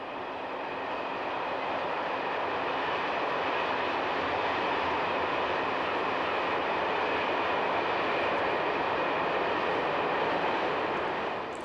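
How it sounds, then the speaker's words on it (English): A southbound Swiss intermodal freight train headed by two Class 460 electric locomotives and assisted by an Ae 6/6 Co-Co electric on the Gotthard route, a steady, loud, continuous rumble and roar of rolling wagons. "This southbound intermodal service, headed by two state-of-the-art Class 460s, is being assisted by an AE66 Coco Electric"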